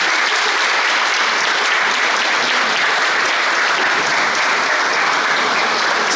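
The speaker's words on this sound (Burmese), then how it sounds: "ကျွန်တော်လက်ခုပ်တီးပြီးမှကြိုဆိုရအောင်" A wedding audience applauds to welcome the family, a dense, steady wall of clapping from many hands that holds evenly from start to finish.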